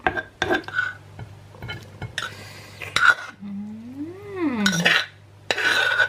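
A pestle or spoon scrapes and clinks inside a mortar while a papaya-style pounded long bean salad is mixed. The scrapes come in short, sparse strokes close by, with a voice briefly sounding between them.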